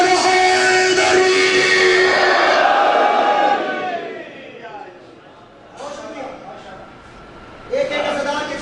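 Large Muharram gathering in Wah Cantt chanting the slogan Haidari, loud massed voices swelling together, falling away, then rising again in short bursts.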